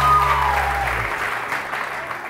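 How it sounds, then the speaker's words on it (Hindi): Studio audience applause on a Pakistani TV morning show, greeting a panelist named Urooj: steady, dense clapping from a crowd throughout, with a low musical tone fading out in the first second. "बहुत सारी तालियां उरूज के लिए"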